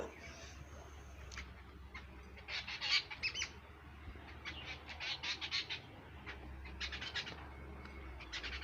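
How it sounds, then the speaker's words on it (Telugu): Birds squawk and call around a summer organic garden, with scattered bursts of chirping over a steady low hum, loudest around the middle and near the end, with no talking. "అలాగే బర్డ్స్ చూసారా, తిరగతానే ఉంటాయి అన్నమాట గార్డెన్లో."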